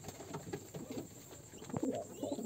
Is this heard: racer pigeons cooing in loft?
yes